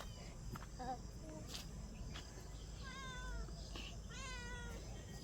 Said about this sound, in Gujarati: જો વિયાન ભાઈ આવ્યા છે મીંદડી બેન ને તેડી.